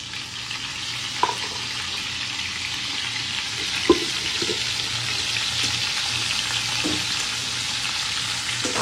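Large prawns with long legs fry in a pan, a steady hiss of sizzling oil with a few sharp pops and utensil taps over a constant background wash.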